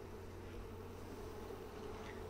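Honey bees hum in a low, steady drone while a Flow Hive split is opened for brood inspection, faint and continuous with no other sounds standing out.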